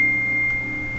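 A phone sounds a steady, unbroken high-pitched beep tone, fairly loud and close, over a constant low electrical hum with no talking.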